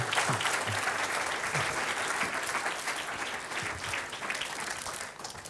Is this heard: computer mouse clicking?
no